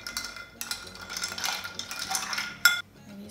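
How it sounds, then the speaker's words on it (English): A Saratoga cocktail of whiskey, sweet vermouth and bitters is stirred over ice, with a steady rattling clink of ice and spoon against the glass for a few seconds, ending in one sharp clink before going quiet. "and you give it a stir"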